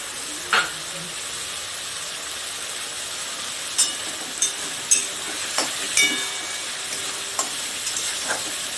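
Raw jackfruit and shrimp gravy with sour yogurt being sautéed in a pan: a soft, steady background sizzle broken by a few sharp clinks and scrapes of a spoon against the pan, with no talking.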